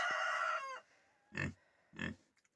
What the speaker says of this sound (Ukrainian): Кури гуляють, всі гуляють на дворі.